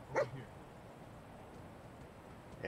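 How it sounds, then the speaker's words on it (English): A single short dog bark sounds near the start inside the video game Fallout 4, followed by a faint second yip at the end over a quiet ambient game background. "That is a dog."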